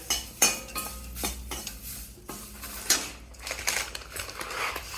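Garlic being lightly roasted in an iron pan: close metallic scrapes and clinks of a utensil against the pan in an uneven rhythm, with a faint sizzle beneath and no voices.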